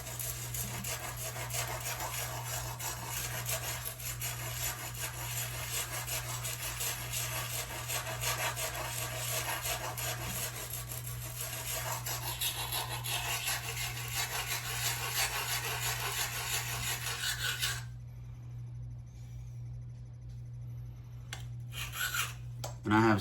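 A metal file rasps steadily along a notched blade for landscaping work, a continuous close scraping rub with a constant low hum beneath, stopping abruptly near the end before a few light handling clicks.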